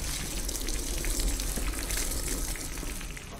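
Water poured onto a captive in Call of Duty: Modern Warfare, a continuous close gushing splash that holds steady for a few seconds and then eases slightly.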